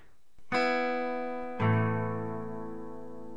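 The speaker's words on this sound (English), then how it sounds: "Now if we were to play these 2 chords in tab together, this is what it would sound like." Two guitar chords strummed one after another, the second about a second later, each ringing out and slowly fading, with no talking.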